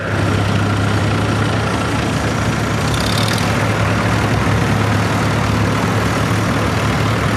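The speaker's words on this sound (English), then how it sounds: "And now we have a 1957 Farmall 450 diesel" A 1957 Farmall 450 diesel tractor runs at an outdoor tractor show, its engine a loud, steady low throb that holds constant close by with no voices over it.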